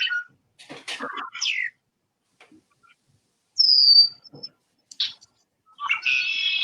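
Several short, varied blackbird song phrases with clear whistled notes and chattering bursts separated by silent gaps, fairly close and moderately loud.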